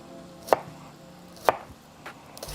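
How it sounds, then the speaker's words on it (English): A knife chops food on a cutting board in four sharp, separate strikes about a second apart, close and clear with no talking, while ingredients for a patty melt are diced. "you see it kind of like dices itself."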